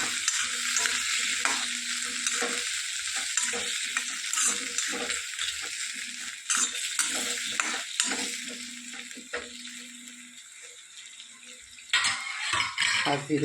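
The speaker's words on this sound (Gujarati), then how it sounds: "પાંચ ધીરો કરીને ડુંગળીને આપણે સરસ ફેરવી દઈએ." Onions with salt and turmeric frying in a pan for a gram dal and onion shaak, a loud continuous sizzle close by with repeated spatula scrapes and stirring throughout, no speech.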